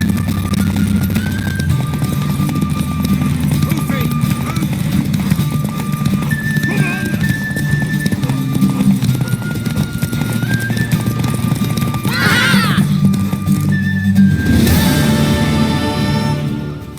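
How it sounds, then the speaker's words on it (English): Steady clip-clop of horse hooves throughout with a loud horse whinny near the end, over background game music and ambient sound, from The Witcher 3. "Worthy of the best horse. The mare is yours."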